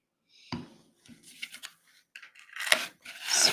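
A scraper drags nail polish across a metal nail stamping plate in a few short, close scraping passes, with quiet gaps between the gritty strokes.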